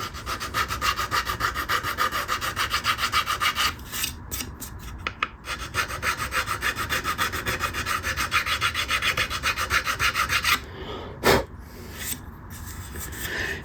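Steady back-and-forth rasping of a file bevelling the fret slots on a wooden bass guitar neck before binding goes on, a continuous close scraping rhythm with a brief pause and a knock near the end.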